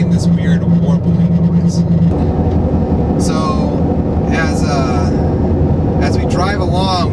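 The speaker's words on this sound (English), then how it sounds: "We're about 50 miles an hour and it's making this weird warbling noise." A 2014 Ford cruising at about 50 mph, with steady loud road and tire roar and a low droning warble under it, plus a voice talking over the noise throughout.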